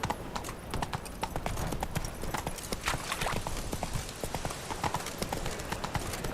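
Roach, the horse in The Witcher 3, galloping with rapid, steady hoof clip-clops close up, loud and continuous throughout.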